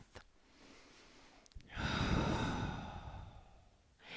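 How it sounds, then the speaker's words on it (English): A big, slow belly breath taken during an assisted wall stretch, heard as a long, close, audible exhale that swells and fades over about two seconds after a brief intake, alone with no talking. "So we'll take one last breath here, big, slow belly breath."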